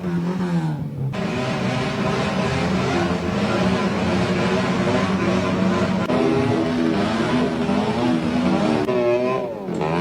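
A motorcycle with a big, loud exhaust revs hard and holds a roaring, droning engine note, rising and wavering in pitch, close and continuous for the whole stretch.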